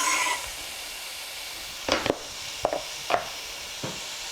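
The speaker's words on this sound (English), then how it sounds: "we're going to go ahead and saute the onion in the oil" Onion sautéing in oil in a preheated pan: a soft steady sizzle with several sharp clicks and scrapes of a utensil stirring, close and fairly quiet, with no talk.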